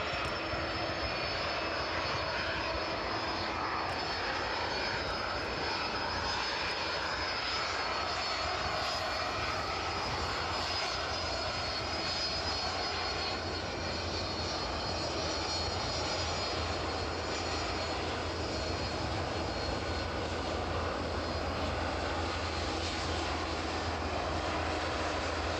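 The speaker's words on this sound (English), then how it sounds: "The DHL 757 here from Reykjavik this evening." A DHL Boeing 757 jet on the runway at East Midlands Airport in the evening, its engines producing a continuous loud roar with a high whine, sustained and steady throughout.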